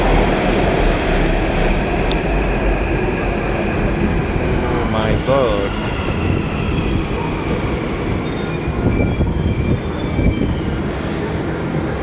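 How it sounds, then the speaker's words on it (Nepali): A metro train rumbles into a Hyderabad station loudly with a continuous roar and wheel squeal, and a brief exclaimed voice is heard over the noise. "मेट्रो आयो, मेट्रो हेर्नुहोस्।"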